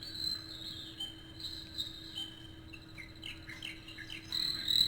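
Recorded nature track of chirping birds over a steady insect drone, playing softly and continuously from the small speaker of a La Crosse Equity mood light alarm clock.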